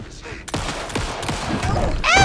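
Rapid gunfire in a video game shootout, several sharp bursts of shots close and loud, with a player's voice shouting between and over them.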